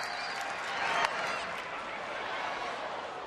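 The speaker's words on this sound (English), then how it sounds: "Big crowd here at Rangers Ballpark." A large baseball crowd at Rangers Ballpark during a Texas Rangers home game, a steady broad murmur of many voices with a brief swell of cheering and clapping near the one-second mark.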